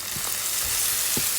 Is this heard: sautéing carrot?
yes